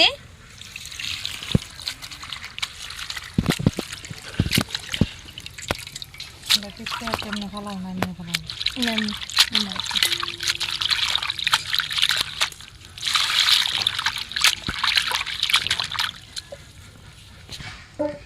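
Spinach being rinsed under running water in a home kitchen, with steady trickling, dripping and splashing, while people talk nearby throughout.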